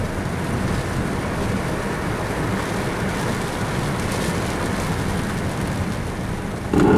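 Steady rain falling in Moscow, a constant close hiss of drops on surfaces with no voices.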